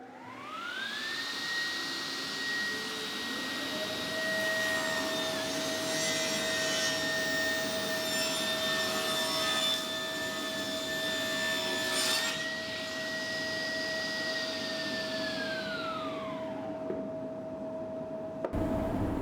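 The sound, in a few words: sliding table saw making a rough sizing cut in wood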